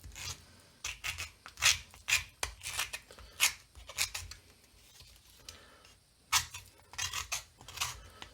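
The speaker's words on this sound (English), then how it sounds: "Keep the knife at a shallow angle, keep the scissors at a shallow angle." Repeated short scraping strokes of a knife and scissors held at a shallow angle against a cast mask shell's edge, close and crisp, come in an irregular rhythm with brief pauses between bursts; no voices.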